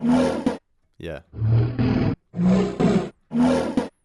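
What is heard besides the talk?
bear growl sample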